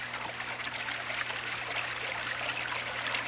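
Clear stream water flows continuously in a steady, close babbling rush with a faint low hum underneath and no talking.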